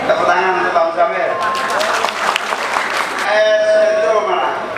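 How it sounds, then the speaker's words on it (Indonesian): A crowd at a political gathering applauds Bang Samir, with a burst of clapping rising briefly in the middle while a speaker's voice carries on before and after. "tepuk tangan untuk Bang Samir."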